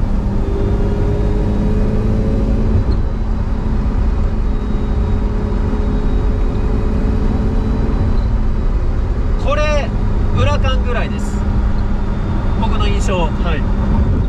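Lamborghini Sian Roadster switched into sport mode, a loud steady engine drone and road noise with people talking over it throughout.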